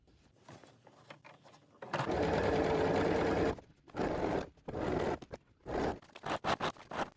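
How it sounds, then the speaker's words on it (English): A sewing machine hems the edge of a linen poncho, a steady loud run of stitching for about a second and a half, then several shorter bursts with brief pauses between them. "we're also going to hem this around too, just like a 1/2 inch"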